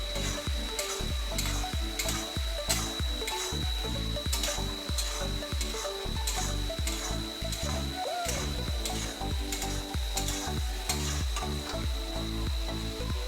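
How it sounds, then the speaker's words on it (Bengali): Fried egg Manchurian balls are tossed and stir-fried in a pan, with a steady sizzle and regular rhythmic scraping strokes from a spatula throughout, close and fairly loud, with no talking. "এবার এতে আমরা ভেজে রাখা মাঞ্চুরিয়ান বলগুলো দিয়ে এটাকে ভালোভাবে মেশাবো।"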